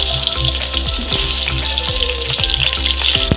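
Chopped onions frying in hot oil in a wok, the start of a duck curry with ash gourd and potato. A steady close sizzle runs throughout, with regular scraping strokes from stirring.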